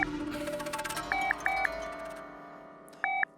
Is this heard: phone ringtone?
yes